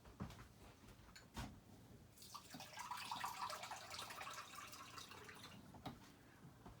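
Water runs from a kitchen tap into a pot of rice while kitchari is being made. The soft, hissing stream starts suddenly, flows steadily for about three seconds, then stops, and the whole sound is faint.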